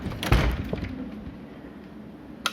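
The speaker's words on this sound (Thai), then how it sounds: "น้องก็จะเปิดประตู ก็ไม่ออก" A door is handled indoors in a room being shown, with a loud knock or thump near the start followed by quieter rattling, then a brief sharp click at the end; no talking is heard.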